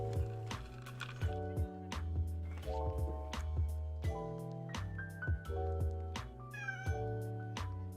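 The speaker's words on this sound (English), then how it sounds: "She gets very cute meows." A pet cat meows repeatedly, a series of short, fairly soft, tonal cries in an indoor room, with no talking over them.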